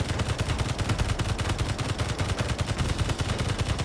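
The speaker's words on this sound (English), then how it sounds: "I'm going to shoot the thing that's shooting us!" Automatic gunfire in the video game Space Engineers, a rapid, steady stream of loud shots that continues without a break throughout.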